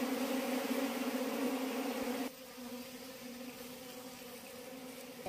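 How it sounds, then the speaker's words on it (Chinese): A honeybee colony nesting in a cellar hole among stored ginger buzzes in a steady, dense drone, close and continuous, dropping somewhat quieter partway through but never stopping. "这窝蜜蜂刚好把这个洞口给堵起来了"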